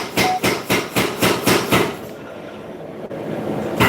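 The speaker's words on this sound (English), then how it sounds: "over at the power hammer doing power hammering" Heavy rhythmic blows from a power hammer forging steel for a spontoon tomahawk thud rapidly for about two seconds, then stop, leaving a steady workshop rumble.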